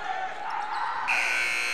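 A loud electronic buzzer sounds at halftime of a high school basketball game, a sustained tone over crowd noise and a commentator's voice in a gym.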